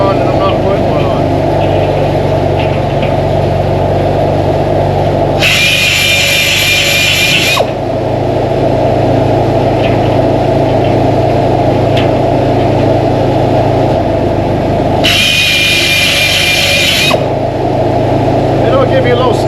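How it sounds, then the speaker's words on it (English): Loud, steady machine drone of a diamond saw blade running while a dressing stick cleans it. Two separate stretches bring a harsher, bright grinding hiss of a few seconds each as the stick bears against the blade. "Dressing stick cleans off the diamond"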